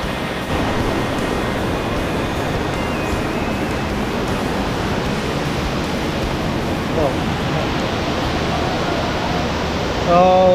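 A small waterfall on a creek, its water running brown after rain, gives a steady, dense rush of falling water with no break.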